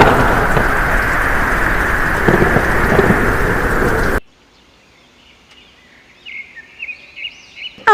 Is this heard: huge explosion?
no